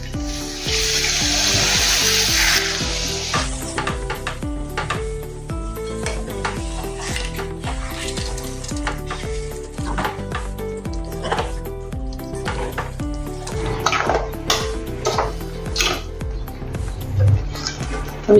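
Water poured into a pan of stuffed eggplant masala sizzles loudly at first, then settles into a steady frying hiss with repeated spoon scrapes and clinks against the pan. Nobody talks.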